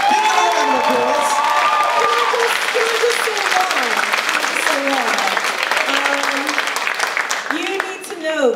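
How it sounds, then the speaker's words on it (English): A lively crowd applauds and cheers after a school drama performance, loud sustained clapping mixed with shouts, whoops and excited voices that carries on for several seconds before tapering slightly. "Give them a round of applause."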